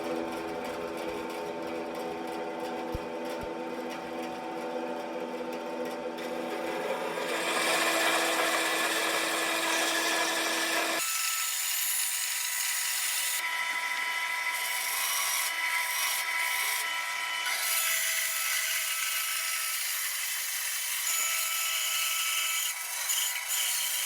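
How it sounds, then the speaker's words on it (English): A bandsaw cuts a wooden military rifle stock along marked lines, giving a close, steady whirring and rasping drone that shifts in tone partway through as the cut changes, with no talking. "I'll move to the bandsaw for the rest. I'll follow the lines that I marked earlier"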